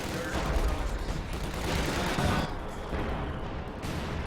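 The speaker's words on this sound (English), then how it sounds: "Bazookas get a couple shots off." Bazooka shots and battle fire in a Company of Heroes 2 2v2 match, a dense barrage of booming gunfire and explosions rolling continuously at loud, steady level with a brief lull near the end.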